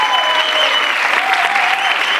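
A theatre audience at a premiere of La Jaula de las Locas applauds loudly and continuously, dense close clapping with faint whoops over it and no talking.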